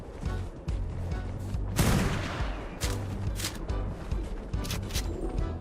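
Gunshots in the video game ARK: Genesis fire in a rapid volley, with a heavy burst near the start followed by repeated sharp shots, moderately loud and with no talking.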